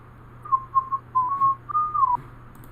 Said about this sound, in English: See, he's whistling. He's whistling now.